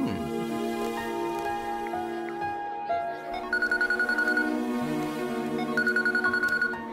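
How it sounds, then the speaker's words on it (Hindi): A telephone rings in a Hindi-dubbed South Indian film, its repeated electronic trill pulsing in bursts over a steady music bed and rising more clearly in the second half. "हे, ऐश्वर्या का फोन है।"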